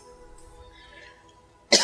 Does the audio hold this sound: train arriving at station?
no